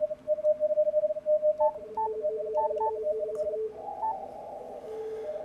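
Amateur radio receiver tuned to CW contest signals, switched to a 500 Hz roofing filter with digital noise reduction on: clean, steady Morse-style beeping tones over faint hiss, then a narrower band of soft, steady noise.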